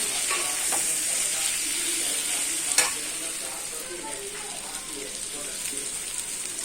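Potatoes fry in a pan with grated ginger for a ghugni, a steady close crackling sizzle with one sharp utensil tap partway through and a voice speaking faintly over it.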